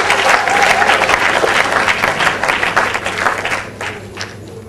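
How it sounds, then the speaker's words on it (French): Wedding guests applaud the bride Maria with sustained, dense clapping at a French-speaking ceremony, loud and steady at first, thinning and fading toward the end. "Est-ce que nous pouvons acclamer très fort pour Maria, acclamer très fort pour elle."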